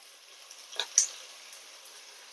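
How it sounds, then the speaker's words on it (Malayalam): Sliced onions with salt and turmeric sauté in hot oil for a Malabar chicken biryani. A soft, low sizzle holds throughout, with a couple of brief louder clicks of stirring near the middle and no voices. "സവാള ഇട്ട് കൊടുത്ത് കുറച്ച് ഉപ്പും മഞ്ഞൾപ്പൊടിയും ഇട്ട് നല്ല രീതിയിൽ വഴറ്റിയെടുക്കാം."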